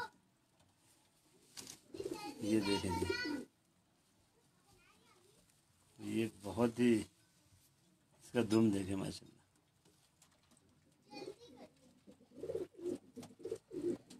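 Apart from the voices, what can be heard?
pigeons cooing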